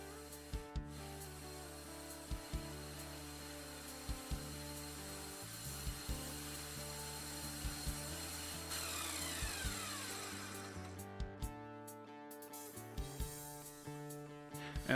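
Maple turning at full speed on a drill press, a steady whirring drone with repeated rhythmic knocks and thumps as the spinning block is shaken and cut freehand, no voices.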